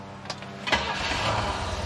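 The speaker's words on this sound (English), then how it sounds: "I'll start the car up" A car engine with a stalling problem and a PCV valve fitted is cranked and catches, a short whirring burst followed by a steady, rough, close idle.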